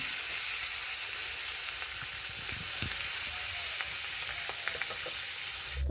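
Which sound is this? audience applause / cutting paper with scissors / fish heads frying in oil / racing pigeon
fish heads frying in oil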